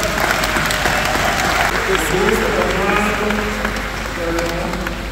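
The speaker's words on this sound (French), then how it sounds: "Nous allons acclamer très fort pour la gloire de notre Seigneur" A congregation at a Congolese commemoration applauds and acclaims in praise of the Lord, with sustained clapping and raised voices blending into a loud, steady roar and some speech within.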